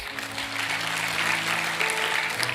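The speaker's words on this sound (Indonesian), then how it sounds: "Tepuk tangan buat GSJS." Audience applause inside a church fills the space steadily, a dense wash of clapping that stays level throughout with faint background murmur.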